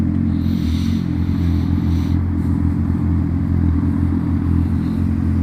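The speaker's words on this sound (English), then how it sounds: "the sound of a sport bike" A sport bike motorcycle engine drones steadily while being ridden on a commute, a loud, continuous buzzing hum heard up close with little variation in pitch.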